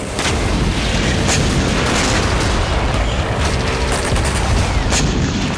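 Heavy, continuous gunfire and booming blasts at close range as Russian T-90 tanks fire shells at trenches in the Russia–Ukraine war, a dense, unbroken barrage with sharp cracks and rolling booms.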